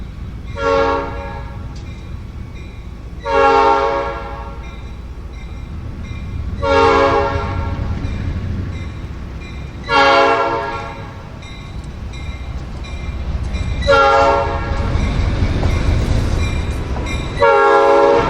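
A train passes on a heritage railroad, sounding its horn in six loud, evenly spaced blasts over a steady rumble of rolling wheels and cars.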